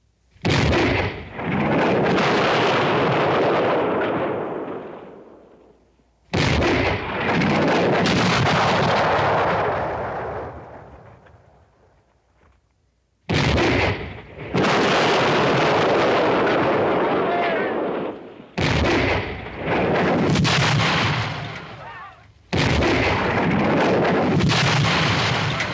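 Artillery cannons fire on a western battlefield, five heavy booming blasts in a row, each a loud roar that rumbles and fades over a few seconds before the next one lands.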